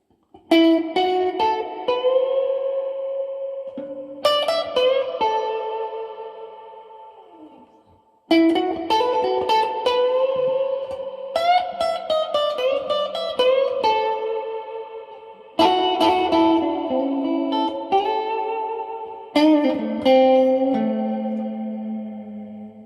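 Gretsch electric guitar through a vintage Marshall amp with reverb, played in several ringing phrases of chords and single notes, each left to decay in a long reverb tail before the next phrase starts.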